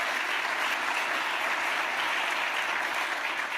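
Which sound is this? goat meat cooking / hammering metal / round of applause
round of applause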